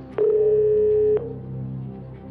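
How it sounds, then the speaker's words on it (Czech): A telephone line on a Czech TV quiz show, Who Wants to Be a Millionaire, as a lifeline call is placed: a steady tone sounds for about a second, then cuts off to a low hum. "Takže zavoláme Petrovi."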